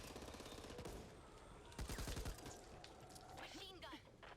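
Bursts of rapid machine gun fire from a dual-wielded light machine gun in the co-op shooter Back 4 Blood, quite faint and layered with other game effects, with a louder rattling burst in the middle.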